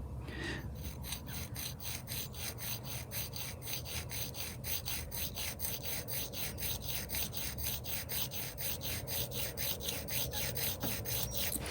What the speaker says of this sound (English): you're going to take your file, rest it on your vise, line it up with the bevel